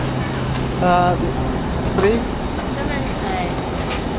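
A train hums at a platform in Beijing railway station, with a brief whistle-like tone, a clank and a squeal, and a voice speaking over the steady rumble.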